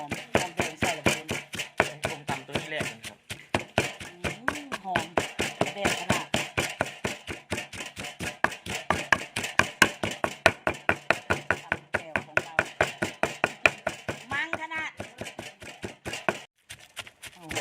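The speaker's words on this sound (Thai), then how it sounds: "ตำพริกตำหอมแดง ตำกระเทียมบบ้านๆของเรา" Chili, shallots and garlic are pounded in a mortar for a homestyle Thai-Lao jaew dip, with a steady rapid run of sharp pestle thuds repeating close up for the full stretch, slowing briefly near the end.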